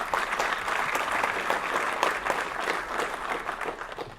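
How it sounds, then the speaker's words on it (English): Audience applause during a city state-of-the-city address, a full, sustained round of clapping from a crowd, steady and fairly loud throughout with scattered sharper claps. "we could use a touchdown applause for,"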